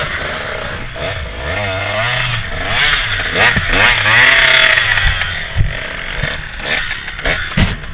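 A KTM 150 dirt bike engine restarts and revs in thick mud, a loud, close, rising and falling two-stroke snarl with clattering and scraping as the bike slides.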